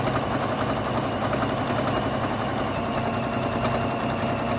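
A domestic sewing machine runs steadily at speed during free motion quilting, its needle producing a fast, continuous mechanical whirring and chatter, close and loud without pause.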